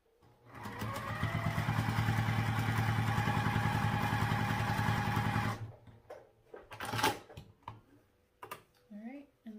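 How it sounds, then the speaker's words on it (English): A sewing machine stitches a fabric seam on a sling bag, a close, steady rapid motor chatter lasting about five seconds, followed by handling and rustling of the fabric. "sew a quarter of an inch down, just like we did that first time"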